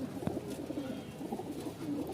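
Pigeons of a fancy breed coo steadily in a quiet space, a low, continuous rolling murmur with no voices over it.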